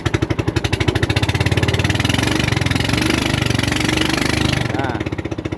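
A motorcycle engine revs hard and steadily as it pushes through strong, fast-flowing river water at low tide on a rough, extreme route, throbbing loud and close before easing off near the end.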